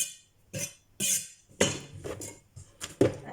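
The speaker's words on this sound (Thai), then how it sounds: "เอาค่อยหั่นเขือเหลืองใส่ค่ะ" A knife chops yellow cucumber on a cutting board, giving about six irregular, close knocks and clicks spread over a few seconds, with no voices.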